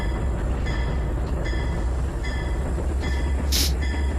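A C30-7 diesel locomotive in Trainz 2019 pulls train cars with a continuous low rumble and engine drone, overlaid by rhythmic wheel clicks and a brief high squeal near the end.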